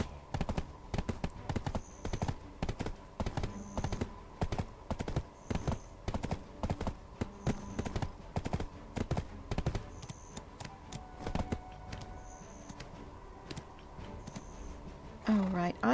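Horse hooves clip-clop in a steady rhythm in the Black Desert Online game, with periodic clicks alongside and a voice talking over it.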